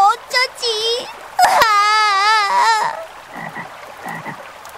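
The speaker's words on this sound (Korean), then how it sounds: "비가 오면 개굴개굴 운답니다." A tree frog croaking on a rainy day, with loud, wavering, tonal calls in a couple of close bursts, followed by fainter, shorter chirps.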